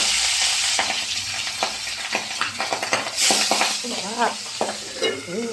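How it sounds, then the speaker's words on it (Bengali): Pieces of boal fish crackle and sizzle in hot oil in a home kitchen, a steady broadband hiss broken by sharp spatters and pops, with a few squeaky scraping stirs of a utensil near the end. "তেলের মধ্যে এবারে মাছগুলোকে ছাড়বো"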